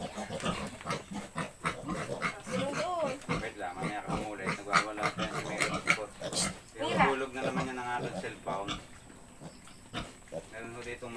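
A piglet being caught on a farm, grunting and letting out repeated shrill squeals close up, with people talking over the commotion.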